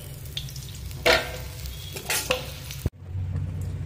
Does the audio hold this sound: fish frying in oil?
yes